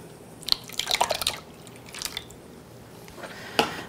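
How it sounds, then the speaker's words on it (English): Homemade buttermilk poured into gluten-free chocolate cake batter gives a few soft, wet drips and splats in quick bursts, then a pause and a final faint splash, all quiet and close with no talking. "we're also gonna add in our newly made buttermilk"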